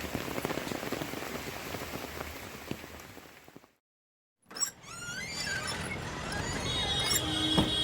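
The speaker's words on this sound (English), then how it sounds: "the gentle embrace of rain and the quiet hum of the cafe" Gentle rain falls outside a cafe at night with a soft, even patter. It cuts out briefly midway, then resumes with faint high squeaks over the drizzle; no one speaks.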